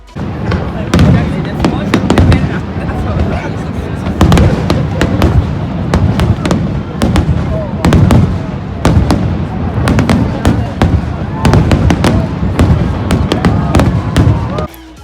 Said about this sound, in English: And in the evening, they had this amazing fireworks show.